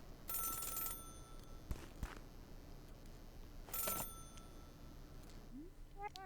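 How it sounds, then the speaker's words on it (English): A call booth payphone in the video game Celeste rings twice in brief electronic trills, with soft game ambience and small sound effects between and after. "Phone's ringing, oddly enough."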